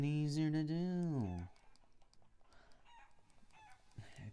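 A rooster crows loudly in Shenmue 3, a long rising and falling call, followed by faint scattered clucks and light clicking in the background.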